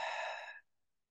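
A single long breath out during a slow qigong exercise, a soft broad exhale lasting about half a second before fading into quiet, close and alone.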